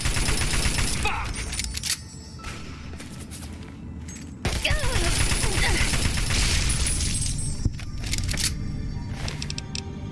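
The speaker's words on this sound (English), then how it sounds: "Yeah, that's a police pistol." Police pistol fire in Fallout 3, a scatter of sharp cracks mixed into dense combat noise and a steady background roar, with a louder crack late on; a voice talks through part of it.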